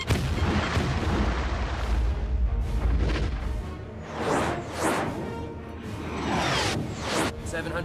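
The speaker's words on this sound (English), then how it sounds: "Robinson, release countermeasure now!" Underwater combat in a submarine war movie as a countermeasure is released during a torpedo attack: a string of deep booming thuds and rushing whooshes, loud and close, swelling and fading in waves.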